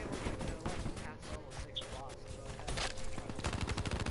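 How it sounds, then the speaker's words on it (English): Rapid machine gun fire from enemies in the video game Let It Die, dense continuous bursts of crackling shots filling the scene, loud and sustained with a voice talking over it. "Now I'm fighting enemies that walk around carrying machine guns."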